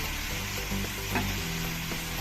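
Ginger-garlic paste and cumin-coriander paste fry in hot oil for a fish curry, giving a steady, close broadband sizzle with soft stirring scrapes throughout.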